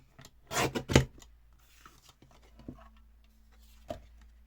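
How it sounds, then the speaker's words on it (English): Scissors trimming a little off the bottom make a quick cluster of crisp, close snips near the start, followed by a few faint, scattered clicks in otherwise quiet surroundings. "I'm going to give it the tiniest of trim on the bottom."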